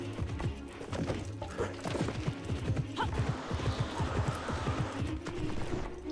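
Horse hooves clip-clop in a quick, steady gait in the Alexandra Ledermann horse-riding video game, with a short whinny partway through, the hoofbeats loud and close over a low ambient bed.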